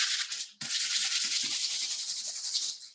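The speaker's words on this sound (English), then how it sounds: "I sand this a little bit more" Sandpaper rubbing over a painted purse, a loud, close, raspy scraping in back-and-forth strokes with a brief pause early on.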